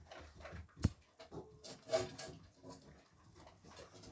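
Two newly arrived dogs pant and whimper close by, soft breathy panting broken by short whines and a sharp single yelp near the start, with faint rustling in a quiet room.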